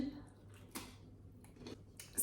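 Homemade egg-white chips crunch in a few crisp, close bites spaced about a second apart, quiet and alone in a still room.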